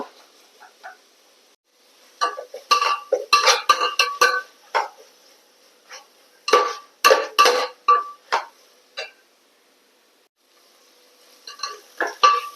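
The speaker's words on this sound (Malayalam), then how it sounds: "ഒരു ടീസ്പൂൺ വെളുത്തുള്ളി പേസ്റ്റ് നന്നായി ഇളക്കി കൊടുക്കുക" Spoon stirring garlic paste into chicken curry in a pan gives bursts of scraping and clinking, with short pauses between the runs of strokes.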